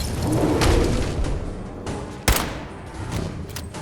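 Gunfire in the video game Fallout 4 during a fight at Swan's Pond: a dense, continuous rattle of shots with one sharp louder burst midway, mixed with game noise.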